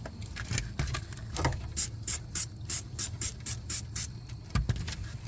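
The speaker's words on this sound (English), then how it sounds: "I'm going to spray this a couple times just to get the area." An aerosol can sprays around a leaking gas tank on a 2001 Toyota Avalon in a rapid series of about nine short, sharp hissing bursts, with a few softer sprays before and after.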